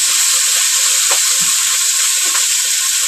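Cooking oil in a hot pan sizzles steadily and loudly, a continuous hiss of frying with a few soft clinks of stirring.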